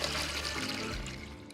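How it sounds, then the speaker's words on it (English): A toilet flushing in the video game Honkai Star Rail, a soft, steady rush of water that fades out over about a second and a half. "They even had the flushing sound effect"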